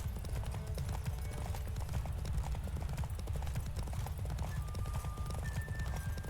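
Rapid rhythmic clip-clop of horse hooves galloping in the video game The Witcher 3, steady and continuous, with a deep rumbling background and occasional faint tonal chimes.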